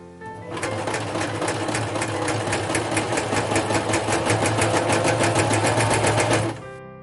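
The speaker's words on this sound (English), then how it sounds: "First, we're going to sew the 2 back parts together." Sewing machine joining two waistcoat back pieces, a loud, close, continuous run of rapid even needle strokes for about six seconds before it slows and stops.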